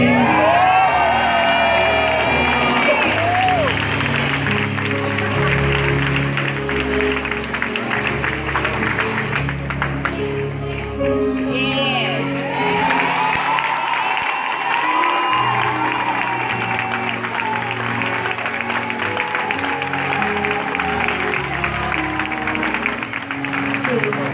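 A large crowd screams, whoops and cheers continuously with applause at a rally with Rev. Jesse Jackson, loud and sustained throughout, with shouted voices mixed in.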